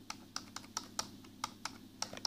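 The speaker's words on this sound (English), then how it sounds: "When you're typing very fast," Typing on a Lenovo Calliope USB keyboard: a quick, close run of crisp key clicks, roughly a dozen taps in just over two seconds, with brief quiet gaps between strokes and no voices.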